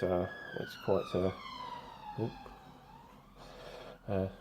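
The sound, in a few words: ambulance siren passing outside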